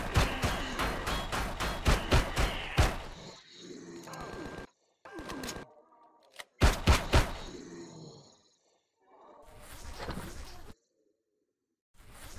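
Shotgun blasts in Empyrion Galactic Survival aboard a derelict ship, a rapid string of loud close shots at first, then scattered single booms between crashes and gaps of silence.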